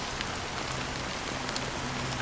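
Steady rain falls in Honkai: Star Rail, a dense, even hiss of drops on surfaces that continues unbroken, with a faint low hum beneath and no one talking.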